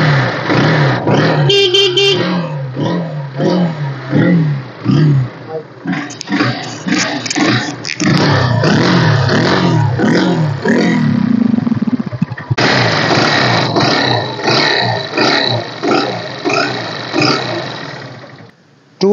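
A used 2016 Honda Hornet motorcycle with disc brakes, for sale at a second-hand bike market in Coimbatore, starts up and is revved repeatedly, its engine rising and falling in loud, close throttle bursts before settling into a steady idle.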